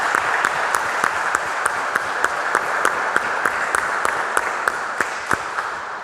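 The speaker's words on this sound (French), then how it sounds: "On les applaudit très fort, les personnes qui ont fêté l'anniversaire." A church congregation applauds in rhythmic unison during Sunday Mass, sharp claps landing at a steady beat over a wash of general clapping.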